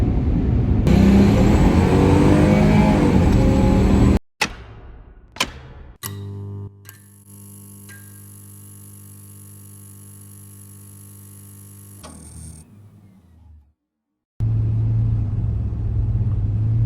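A turbocharged 2001 GMC Sierra pickup engine roars loudly, cuts out abruptly, then settles into a steady droning idle with a few sharp bangs before revving hard again near the end, close and alone without talk.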